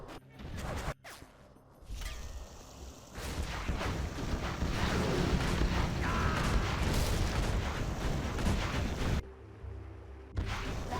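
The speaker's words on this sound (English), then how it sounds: "TOX bomb comes in." TOX bomb blasts in a real-time strategy match on a desert map give a long, rumbling wash of explosions and mechanical clatter, steady and loud for several seconds, with brief dips at start and end.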